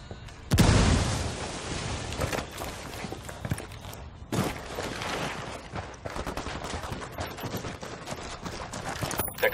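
Heavy grenade blast from Ghost Recon Wildlands bursts up loud and close, then rolling rapid gunfire and fusillades crackle on, with a second strong boom midway and continuous shooting to the end.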